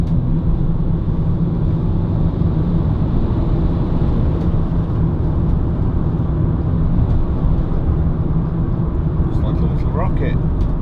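Peugeot Partner 1.6 HDi Professional van cruising on a motorway, a steady loud drone of engine, tyre and wind noise throughout, with a few faint higher clicks near the end.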